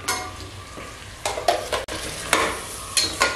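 Masala for Andhra-style chilli chicken fries in a pan, a loud close sizzle broken by several sharp scraping stirs of a spatula against the metal.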